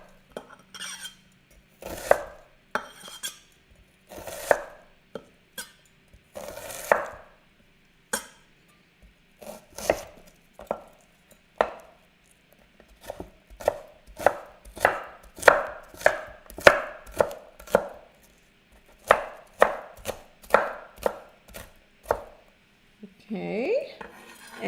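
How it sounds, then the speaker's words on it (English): An onion is diced with a knife on a cutting board in a home kitchen, heard as a long run of crisp chopping taps, first spaced and then in quick steady bursts, close and clear with no talking. "slice across, not all the way through. Be careful with your fingers, and then there you go, nice diced onion"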